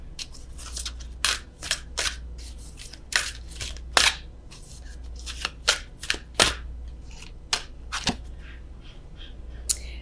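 Tarot cards riffle and snap in a series of crisp, sharp shuffling bursts with brief pauses between them as a card is drawn from the deck, close up over a steady low hum, with no talking.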